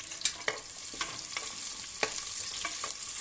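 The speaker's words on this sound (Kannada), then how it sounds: "ನಾನು ಇವಾಗ ಈರುಳ್ಳಿ ಸೇರಿಸ್ತೀನಿ." Onions frying in hot oil for mote sambar, a bright continuous sizzle with a few sharp stirring scrapes and clicks, close and fairly quiet, no talking.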